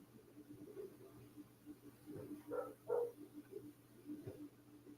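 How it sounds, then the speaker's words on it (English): A neighbour's dog barks outside in a few faint, muffled bursts over a low steady hum, far off rather than close. "it's because it just means one of the neighbor dogs is sitting outside barking."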